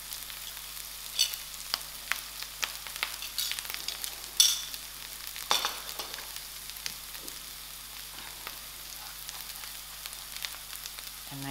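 Green chilies and curry leaves go into a pan of cooked onions for a spicy prawn chutney, giving a quiet, steady sizzle dotted with sharp crackles and spattering pops.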